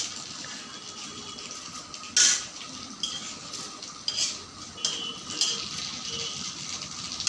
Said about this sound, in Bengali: আমি এই ডিশটার মধ্যে অল্প অল্প করে তুলে নেব।